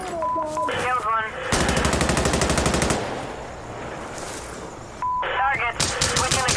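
Machine guns fire in the tactical shooter Insurgency Sandstorm: a loud, rapid burst lasts over a second, a quieter stretch of distant gunfire follows, and a second burst comes near the end. Short electronic beeps are heard between the bursts.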